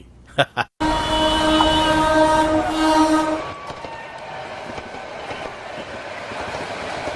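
A train rumbles along the tracks with a steady mechanical drone and tonal hum, preceded by a few sharp knocks, with voices in the background.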